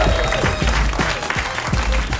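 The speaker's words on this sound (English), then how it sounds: "One more big round of applause for Marsden Kelly." Audience at a stand-up comedy show applauding a comedian, a dense burst of clapping throughout, close and sustained.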